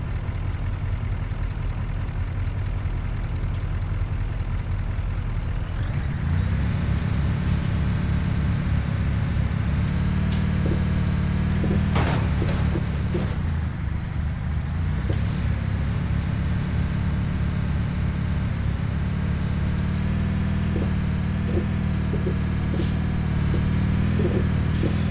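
Scania R4 series heavy truck with its differential locks engaged, a steady low diesel engine drone that rises after a few seconds and holds, with occasional clunks and knocks over it.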